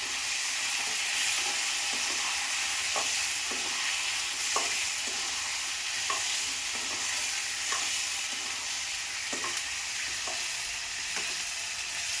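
Brinjal (eggplant) frying in sesame oil, a steady broadband sizzle with periodic scraping stirs of a spatula every second or so, close and continuous with no talk.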